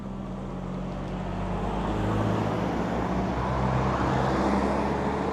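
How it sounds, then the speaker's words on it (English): Steady road noise from a car approaching from behind on a busy afternoon road, a broad continuous rumble that grows slightly louder as it nears, with no talk. "There's a car coming behind me"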